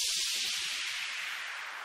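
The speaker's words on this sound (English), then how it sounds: "we can't talk about background noises without white noise." White noise whoosh effect built in FL Studio, a broad hissing sweep that starts loud and slowly thins out over about two seconds, playing alone.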